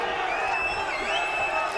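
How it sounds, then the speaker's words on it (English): Crowd at a boxing arena during a bout between Vic Darchinyan and Anselmo Moreno, a loud, continuous roar of cheering and whoops filling the space, with a commentator's voice running through it. "This crowd is revved up."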